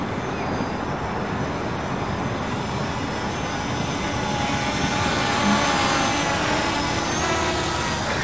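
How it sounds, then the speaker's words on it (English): A tractor is driving around nearby outdoors, giving a steady, broad engine rumble and drone that stays fairly constant and swells slightly midway, with no voices. "Tractor going around behind me."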